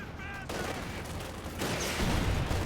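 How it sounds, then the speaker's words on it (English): In a Company of Heroes 2 battle, an M1 anti-tank gun fires amid dense, continuous gunfire and explosions, a heavy boom standing out in the loud, cluttered combat noise. "Ooh, an M1 AT gun hit from right there."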